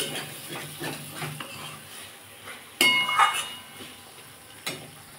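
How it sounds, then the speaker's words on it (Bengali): Ridge gourd with sesame being stirred in a pan, a spoon scraping and clinking against the metal with a light sizzle beneath, one sharper louder clatter midway, then quieter scrapes. "ভালো করে আমি একটু নাড়িয়ে নিচ্ছি।"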